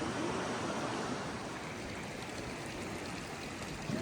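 The Borjomula river flows steadily in Borjomi, a continuous rushing wash of stream water heard close and alone, without voices.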